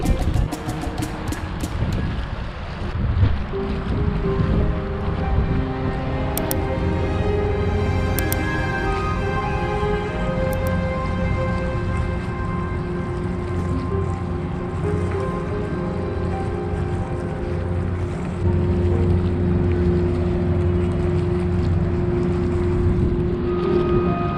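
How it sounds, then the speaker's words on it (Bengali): A cargo ship passing along a lake in a Belgian park, a steady low engine drone and rumble with a continuous tonal hum, heard from the shore over faint wind and ambient noise. "এটাতে এই কার্গো শিপগুলো আসা যাওয়া করে যে একটা দেখা যাচ্ছে একটা কার্গো শিপ"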